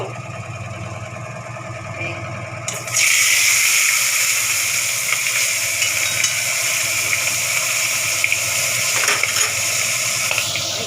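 Flour-coated fish heads drop into hot oil, setting off a sudden loud, steady sizzle that carries on without a break after a quieter start, with no one talking.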